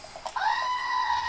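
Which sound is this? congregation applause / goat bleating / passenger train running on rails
goat bleating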